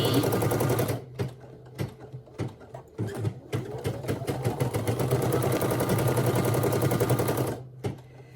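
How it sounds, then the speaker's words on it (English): A sewing machine stitches the number 8 onto a shirt, running in loud rapid mechanical bursts broken by short pauses, then a long steady run near the end. "And it's stitching over. It's okay. Stitching twice the number 8."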